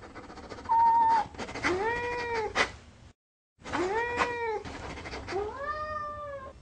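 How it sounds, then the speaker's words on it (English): A cat yowls in a series of rising-and-falling, yodel-like meows, loud and close, with a brief silent gap before the wavering calls resume. "a momentary vertical displacement of 4 to 6 inches will trigger the vocalizations of the cat"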